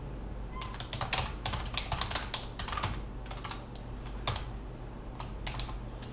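Fingers typing on a computer keyboard, a close, quiet burst of rapid irregular key clicks with brief pauses over a faint low hum, and no talk.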